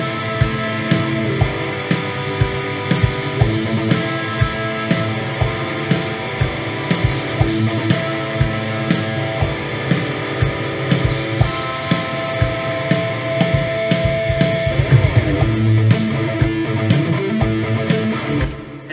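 Edited guitar tracks play back from Reaper in a full, continuous, loud mix with rhythmic strummed chords and sustained tones running throughout, no talking over them.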